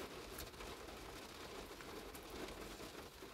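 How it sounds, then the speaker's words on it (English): Rain falling on and around a parked car, a soft, steady patter heard from inside, faint and continuous with occasional slightly sharper drops and no voices. "And listen to the rain."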